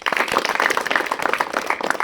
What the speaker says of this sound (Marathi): तरी तिचं आपण पहिल्यांदा टाळ्या वाजवून स्वागत करूया.